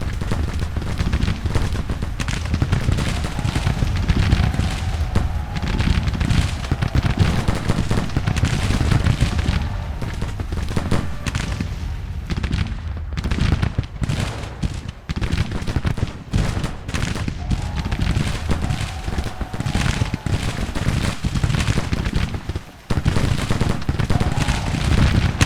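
Dense musket and cannon fire from a Civil War strategy battle rolls on without pause, crackling volleys layered over deep booms, loud and continuous for the whole stretch.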